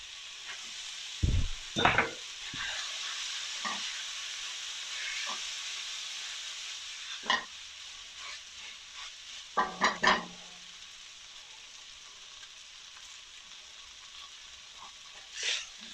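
Noodles stir-frying in a pan with spicy Korean octopus (nakji-bokkeum), a steady sizzling hiss running throughout, broken by a few sharp scraping and clattering stirs near the start, middle and end.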